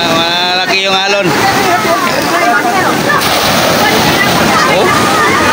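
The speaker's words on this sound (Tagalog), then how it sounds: "Ayan, laki ng alon guys." Heavy sea waves crash and slosh around a small boat, a dense, loud continuous roar of churning water with a speaking voice over the first second.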